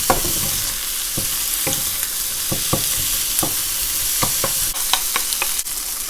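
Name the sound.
stir-frying and breaking up egg in a pan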